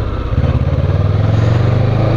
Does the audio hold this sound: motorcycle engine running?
yes